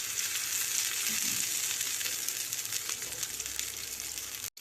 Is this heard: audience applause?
no